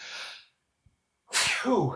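A single loud, close sneeze bursts out after a sharp inhale and a brief silence.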